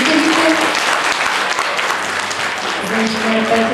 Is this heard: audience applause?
yes